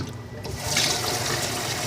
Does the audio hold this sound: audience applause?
no